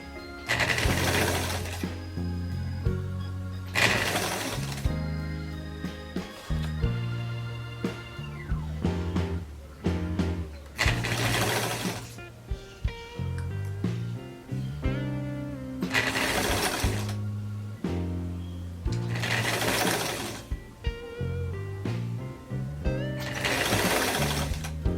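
A sewing machine stitches a raglan sleeve in loud mechanical bursts, running several seconds at a time with short pauses between them and no talking.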